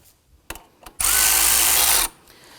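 A power tool tightens the serpentine belt tensioner on a 2005-2009 Subaru Legacy 2.5L H4, a loud, close whir lasting about a second after a couple of soft knocks.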